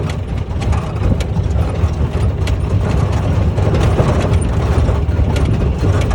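A camper vehicle's engine runs in fourth gear, a loud, steady low rumble with rapid rattling mechanical ticks throughout, heard close without talk.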